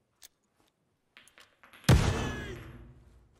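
A flashbang grenade tossed in the Ground Branch video game: a few faint clicks and taps, then one sudden loud bang that rings out and fades over more than a second.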